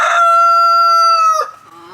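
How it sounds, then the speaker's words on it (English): A rooster inside a chicken coop lets out one loud, close crow that holds steady for over a second before breaking off, followed by a faint cluck. "you're gonna hear the rooster probably because he's going off."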